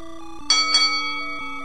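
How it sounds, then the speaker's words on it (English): A single bright bell chime rings out twice in quick succession over a quiet, tonal game-music background. "Ring the bell!"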